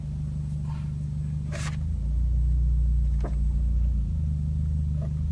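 A Toyota Vios with a 2NR engine and aftermarket exhaust idles with a deep, steady rumble that swells louder midway as it revs, heard close, with a few small clicks over the drone.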